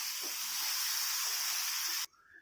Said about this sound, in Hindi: अभी ऐड कर देंगे जिंजर गार्लिक पेस्ट 1 टेबलस्पून और इसको भी ओनियन के साथ मिला के बहुत अच्छे से फ्राई कर लीजिए